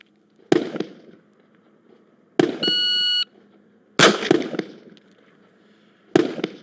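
Four sharp, loud gunshots spaced a second or two apart during a target shooting drill, with a steady electronic timer beep sounding just after the second shot.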